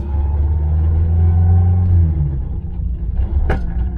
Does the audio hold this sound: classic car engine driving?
yes